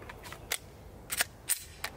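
A Hi-Point JPX 10mm pistol with reduced report fires outdoors. Several short, sharp cracks sound at uneven intervals over a low background, each fairly subdued and quickly fading.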